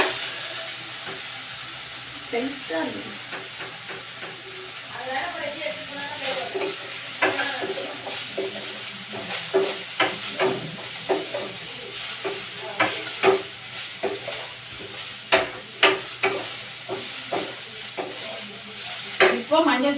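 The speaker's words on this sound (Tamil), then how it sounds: "நல்லா வதக்கிக்கோங்க" Flowers sizzling in a frying pan as they are sautéed, with repeated scraping and stirring strokes close up.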